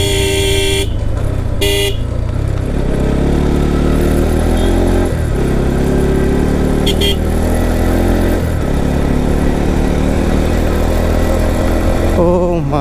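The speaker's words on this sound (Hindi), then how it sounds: "एंड ऊपर से बाइक तो यार काफ़ी मस्त चल रहा है।" A motorcycle ridden from Siliguri up to Mirik through clouds gives a loud, steady engine drone close up, with a few short horn toots along the way.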